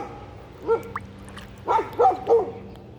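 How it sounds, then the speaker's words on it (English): A dog barks near a kayak on the water, a single bark followed by a quick run of three, moderately loud and a short distance off, with no talk over it. "The dog is still barking at us."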